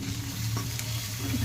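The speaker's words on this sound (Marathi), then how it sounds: "भाजून घ्या मस्त" Green masala paste fries in hot oil with cumin seeds, a dense close sizzle and crackle with stirring scrapes throughout, no speech.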